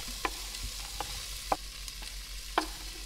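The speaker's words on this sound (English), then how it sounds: "We're going to add the onions and pepper. This is just poblano pepper that I've chopped up." Chopped onions and poblano pepper fry quietly in oil and fat, with a soft continuous sizzle and a few sharp little pops or taps spaced through it; nobody talks.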